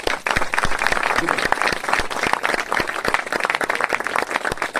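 Church congregation at a pastor's anointing service claps loudly, a dense, steady burst of hand claps filling the room for several seconds.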